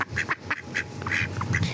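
A duck quacks repeatedly at close range, a run of nasal calls in an uneven rhythm over a soft outdoor background, with no talking.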